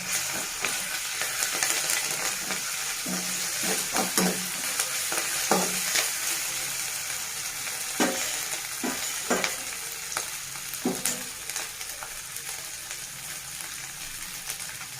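Ginger garlic paste fries in a pan, hissing steadily while a spoon scrapes and knocks against the metal in irregular bursts, close by with no talking.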